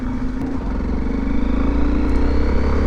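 Modified Hero Xpulse 200 motorcycle fitted with a Hero Karizma engine, running close by with a loud, steady low-pitched exhaust drone and a throbbing, slightly rising idle-to-throttle tone throughout.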